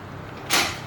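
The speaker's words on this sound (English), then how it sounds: "We'll try the door once again," A sliding glass patio door slides and shuts with a single short burst of sound against the latch, near and clear, after a quiet moment.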